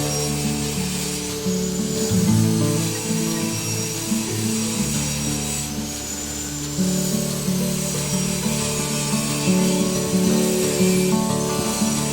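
A power saw whines and grinds through wood in long passes while cutting shelf stretchers for a woodshop cabinet, loud and close, its pitch dipping as the blade bites.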